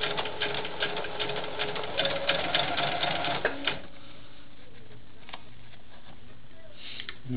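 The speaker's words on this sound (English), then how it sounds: "I'm going to bring my foot up, hold my 2 strands in the back, and I'm going to sew that right across." A sewing machine stitches a quarter-inch seam across a Christmas quilt block, running in quick rattling bursts up close before settling into a quieter hum with scattered clicks and no talking.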